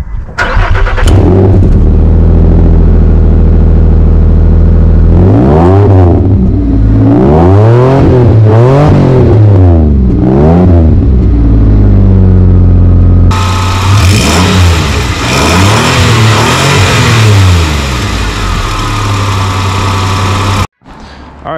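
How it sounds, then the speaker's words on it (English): A Nissan Xterra on 35-inch tires with a modified exhaust idles and then revs repeatedly, each loud rev rising and falling, followed by a steady, throaty drone close to the tailpipe. "I'm gonna insert an exhaust clip here so you guys can hear it"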